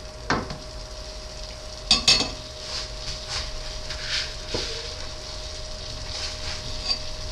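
Chicken and vegetables frying in a pan: a soft, steady sizzle runs throughout, broken by a few sharp clinks of a utensil against the pan and occasional stirring scrapes, with no talking.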